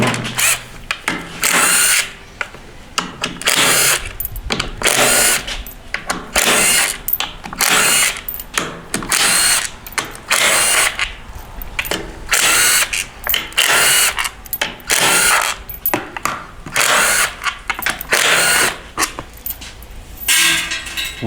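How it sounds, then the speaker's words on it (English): Power tool spinning out 13mm bolts from a 2019 Ford Mustang 10R80 ten-speed transmission during a teardown, loud repeated whirring bursts separated by short pauses, close and continuous over the whole stretch. "Going to pull all the 13mm bolts out"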